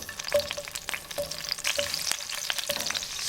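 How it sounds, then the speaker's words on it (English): Garlic sizzles in extra virgin olive oil for a Caprese spaghetti: a loud, close, continuous frying crackle with scattered pops and small utensil taps, and no voices. "We're gonna let it sizzle for just a minute or two."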